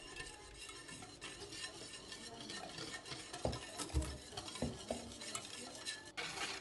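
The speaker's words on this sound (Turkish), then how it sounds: "Ve bir yandan da çırpıcımla karıştırıyorum." A whisk stirs chocolate pudding mix into milk in a pot, making quiet, close scraping and swishing strokes with occasional light clinks of metal against the pot.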